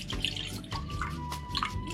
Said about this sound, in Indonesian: Masukkan air dulu.